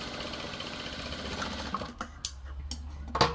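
A sewing machine runs steadily while stitching a straight seam on a blouse sleeve, a continuous close mechanical whir for most of the stretch, then it slows and several short separate bursts of stitching follow.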